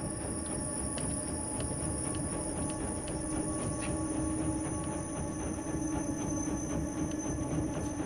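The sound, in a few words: train passing in the video game INSIDE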